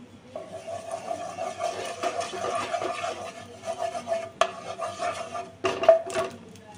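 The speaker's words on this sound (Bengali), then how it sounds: "তো একটু খুন্তিটা দিয়ে নাড়াচাড়া করে দেবো ঘিটা।" A spatula stirs a spoonful of melting ghee in a hot wok while making vermicelli payesh, giving a continuous soft scraping and rubbing with a few sharper metallic knocks near the end.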